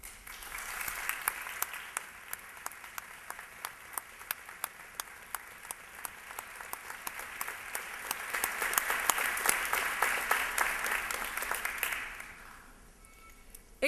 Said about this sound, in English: I invite the audience to join me in a round of applause for SCF's finest